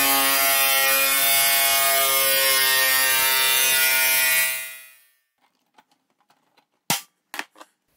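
A tool grinds noisily as slots are cut into the metal casing of a Rossi MIG 155 welder, a loud continuous harsh whine that winds down and stops, followed by scattered sharp knocks and taps.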